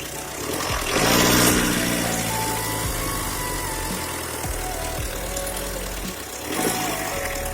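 A vehicle engine running without its air filter idles close by with a loud, rough, steady rumble, swelling briefly a couple of times.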